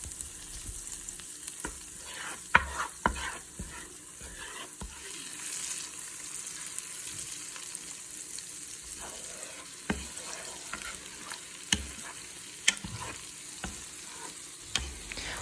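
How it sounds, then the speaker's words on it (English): Butter melting and sizzling in a soup pot while making broccoli cheddar soup, a steady low frying hiss throughout with occasional sharp clicks and knocks of a utensil against the pot. "Now we're just going to add in our remaining 4 tablespoons of butter."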